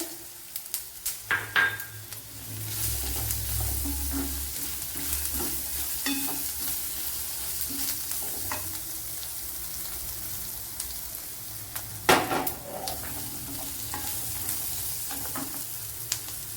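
Chilli flakes sauté in a pan with cooking oil and a few knocks from a spoon against the pan, then a steady sizzle with occasional scraping as the mixture is stirred.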